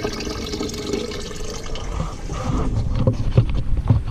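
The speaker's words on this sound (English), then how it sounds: "I'm gonna pour the acid out back into this bucket" Muriatic acid draining out of a rusty fuel tank into a bucket, a splashing, gurgling pour that grows louder and more turbulent toward the end.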